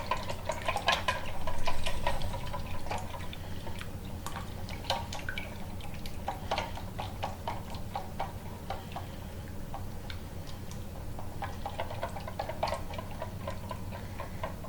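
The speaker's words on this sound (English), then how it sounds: "I'm just going to whisk these together till everything comes together, including that egg" A whisk beats egg with other scone ingredients in a bowl, making a fast run of light ticking, tapping strokes against the bowl that carries on steadily and alone, fairly quiet throughout.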